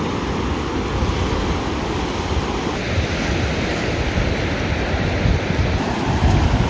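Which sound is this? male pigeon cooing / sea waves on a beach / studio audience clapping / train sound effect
sea waves on a beach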